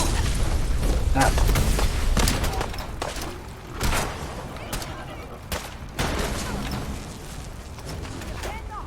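Enemies shooting in a video game: bursts of gunfire and booming impacts at irregular intervals, loud and close, with a voice talking over parts of it.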